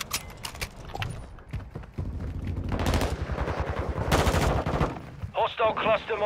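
Rapid gunfire in Call of Duty: Modern Warfare II hardcore free-for-all multiplayer, with loud automatic bursts and single shots in quick succession alongside game sounds and a player talking.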